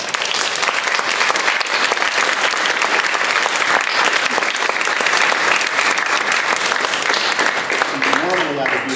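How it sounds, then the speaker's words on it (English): A crowd applauds guest reviewers at a May 2019 thesis event, a steady, loud round of clapping that holds for the whole stretch, with a few voices faintly mixed in underneath. "they certainly deserve a round of applause"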